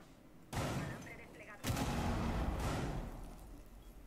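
Two sharp bursts of gunfire in Rainbow Six Siege, each followed by a dense, noisy rumble, loud and close with some background chatter.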